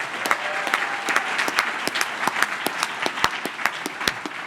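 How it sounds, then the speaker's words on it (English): A crowd at a congressional district candidate forum applauds a moderator with a steady, dense wash of clapping, moderately close and sustained throughout. "and yes, round of applause"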